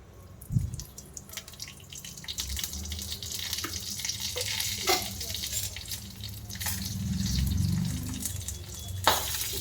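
Green chillies fry in oil for a chicken biryani, giving a quiet, uneven sizzle with sporadic pops and crackles and a low background rumble, close by and with no one talking.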